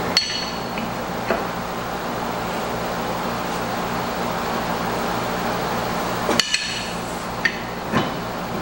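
A hammer taps parts out of a John Deere 100-200 series mower deck, giving a few sharp metallic strikes spaced apart over a steady background hum.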